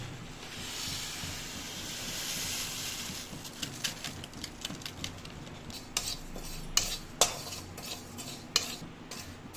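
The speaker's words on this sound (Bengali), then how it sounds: "তাই কম আঁচে প্রথমেই শাহি জিরেটা ভেজে নেব" Shahi cumin seeds dry-roasting in a kadai over a low gas flame, a soft hiss under rhythmic metal spatula scrapes and clinks that grow busier, no one speaking.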